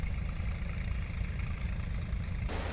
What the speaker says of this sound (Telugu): ఇవి ఒక 2 ఆయిల్ ఇంజిన్ మోటార్స్ని ఇక్కడ పెట్టి డీవాటరింగ్ వర్క్ చేస్తారు అంతా